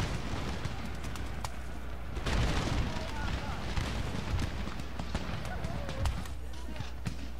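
Massed musket volleys and artillery fire from an Empire: Total War battle in a Mughal campaign against Poland-Lithuania, a dense continuous rumble of distant shots with sharper cracks scattered throughout and a swell near the middle.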